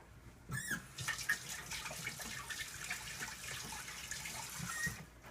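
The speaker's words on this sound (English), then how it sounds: "Wash your fork off and then taste again." Running tap water rinses a fork at a kitchen sink, a steady rushing hiss with small clinks and splashes, close and continuous throughout.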